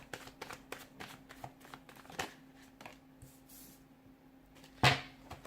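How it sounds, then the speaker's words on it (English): Soft, quiet riffling of tarot cards being shuffled, a series of brisk flicks and taps, with a sharper snap near the end. "give the cards a shuffle, and let's begin"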